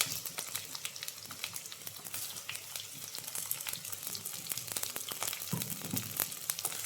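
A medium chopped onion frying in a pan for green peas masala, sizzling steadily up close with dense crackling pops and a brief stirring scrape near the end.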